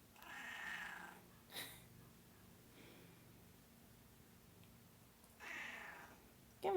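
A cat meows loudly in short bursts, three or four drawn-out calls separated by quiet pauses, heard close by in a quiet room.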